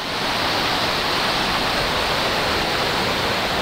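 Loud, steady rush of a fast-flowing, rising river, a continuous roaring hiss with no pauses, close by and filling the whole clip.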